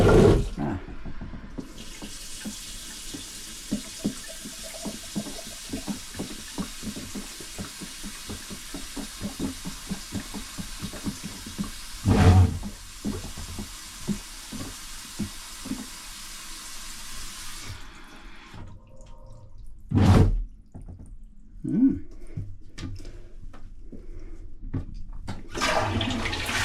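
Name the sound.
Saniflo toilet macerator running with water filling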